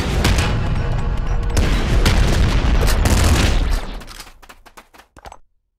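Video game gunfire from Nuclear Throne roars in a dense, loud barrage of booming shots and blasts for several seconds before thinning into a few scattered, fading pops.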